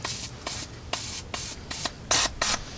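Aerosol penetrating spray soaking the suspension nuts and bolts on a 2014 Ford Explorer, heard as six short hissing bursts close by, with brief pauses between them.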